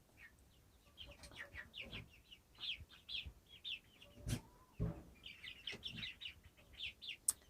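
Chickens cluck and chirp repeatedly nearby in soft bursts, with a few thumps and knocks mixed in.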